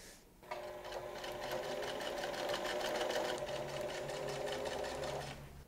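Sewing machine stitching pockets onto slacks, a close, steady rapid mechanical whirr running continuously for about five seconds before stopping.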